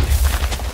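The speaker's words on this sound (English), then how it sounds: "It was just a TNT cannon." TNT cannon explosions in the Minecraft video game, a dense run of loud overlapping booms and blasts close by, filling the whole moment without pause.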